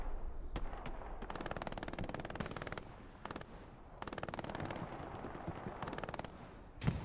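Heavy automatic gunfire rattles through a video game battle in long sustained bursts with brief gaps, distant and fairly faint, with a single sharper crack near the end.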